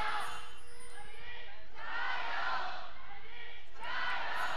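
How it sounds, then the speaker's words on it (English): An arena crowd at a League of Legends esports match in Shanghai cheers and roars in swelling waves, rising and falling several times behind the commentary. "I can hear which team the crowd is behind today"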